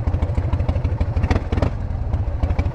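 A Harley-Davidson motorcycle rides through Melbourne, its engine giving a steady, loud, lumpy throb with rapid rhythmic pulses and a little mechanical clatter.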